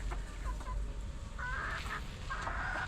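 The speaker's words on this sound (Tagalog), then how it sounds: "tingnan po natin tong ating mga manok" Native chickens on a farm cluck in short, close calls, several overlapping bursts over a low background hum.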